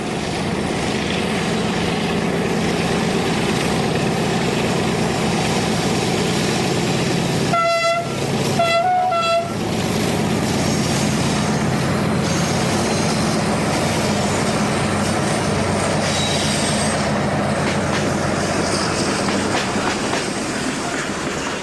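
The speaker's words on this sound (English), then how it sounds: "will require the combined tractive effort of these three 1900 locos working in multiple" Three Portuguese Railways class 1900 diesel locomotives working in multiple haul a heavy coal train, a loud steady rumble and rail clatter throughout with a brief two-tone horn blast midway.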